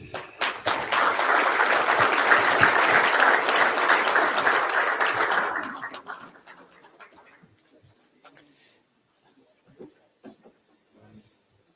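Applause at a football banquet for a touchdown foundation: a dense burst of clapping from a large seated crowd for about five seconds, then fading to scattered claps and quiet.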